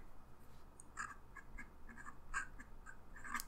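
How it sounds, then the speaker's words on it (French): Esterbrook Estie Tortoise fountain pen with an extra fine nib scratching across paper, faint, close strokes in short irregular bursts against a quiet background. "Et voyons maintenant comment le Esterbrook ST Tortoise écrit"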